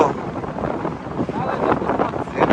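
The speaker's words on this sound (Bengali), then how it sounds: "বাতাস হচ্ছে" Gusty wind rumbles and buffets the microphone in uneven surges, loud and close, ahead of rain at Chalan Beel wetland, with a voice faintly mixed in.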